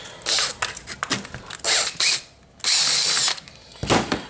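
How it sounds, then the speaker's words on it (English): A high-speed steel bit drills through metal during a silver-solder repair of a wing compass, with several short, loud grinding whines in stop-start bursts and the longest near the end. "I was able to drill through it with that high-speed steel."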